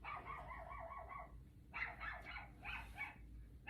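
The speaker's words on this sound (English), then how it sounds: "dog's barking" A dog barks in short bursts, a quick run of yips followed by a pause and then a few more barks, somewhat distant and moderately loud in an otherwise quiet room.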